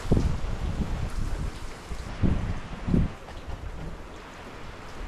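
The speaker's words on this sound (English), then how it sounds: "Wind is really picking up, and it's bringing a lot of cold air in." Strong wind gusting at a mountain campsite in Tuckerman Ravine, a steady roar buffeting the microphone with louder bursts near the start and around the middle, no talking.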